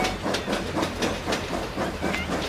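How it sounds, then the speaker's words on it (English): An animated train rolls out of a tunnel, a steady rumble with rhythmic clattering of wheels and a faint hiss, moderately loud and continuous with no voices. "Out of the tunnel came August with her train."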